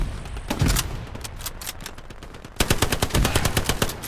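Gunfire in the World War II shooter Hell Let Loose, set in the Kursk offensive: rapid machine-gun bursts and single shots, with a dense sustained volley in the second half, loud and close, without speech.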